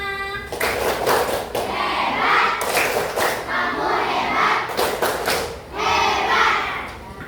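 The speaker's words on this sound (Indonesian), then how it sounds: "Berikan tepuk hebat untuk kelompok Rahma." A group of participants claps a chanted "tepuk hebat" pattern, bursts of clapping mixed with shouted voices in bouncy rhythmic phrases, close and fairly loud, with a short pause near the end before the final burst.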